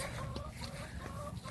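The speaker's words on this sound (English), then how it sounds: "Other than Blondie, she's my oldest chicken" An old hen clucking in a backyard garden flock, soft repeated clucks at close range over steady low outdoor background, with no talk.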